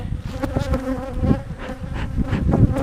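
Bees swarming around a beekeeper at an old hive, a dense close buzzing drone with individual insects whining past, loud and continuous with no talking.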